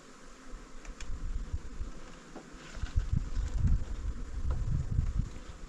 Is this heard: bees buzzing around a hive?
yes